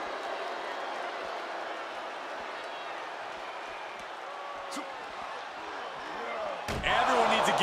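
A heavy wrestling slam on the arena floor outside the ring during a WWE NXT main event match lands as a sharp, loud impact near the end, after steady crowd murmur, and the crowd's noise swells right after.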